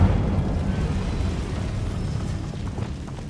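Incendio fire spell burst in the video game Hogwarts Legacy: a loud, dense fiery roar with low rumbling bursts that holds steady for a few seconds and fades slightly.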